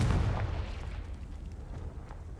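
A Confringo blasting spell explodes in Hogwarts Legacy, a single booming blast at the start that rumbles and fades into a low decaying tail.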